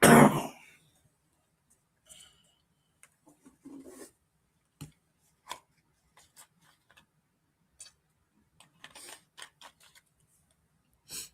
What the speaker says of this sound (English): I do apologize for my coughing intervals.